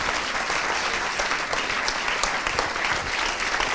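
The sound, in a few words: applause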